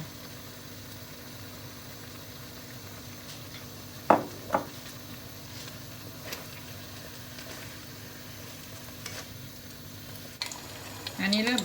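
Chicken stir-frying with ginger in a pan, a low steady sizzle under a faint hum, punctuated by a couple of sharp utensil clanks early on and more scraping near the end.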